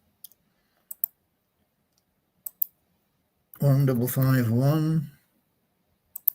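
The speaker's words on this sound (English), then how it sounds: "and then back here and click again" Computer mouse clicking in sparse, sharp pairs and single clicks spread across the clip, close and clear, with a stretch of speech in the middle.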